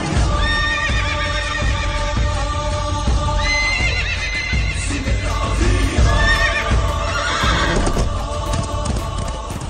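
Near a horse waiting for visitors at Bibi Ka Maqbara in Aurangabad, a horse whinnies in long, loud, shaky calls that rise and fall, with hoof clops and outdoor murmur around it.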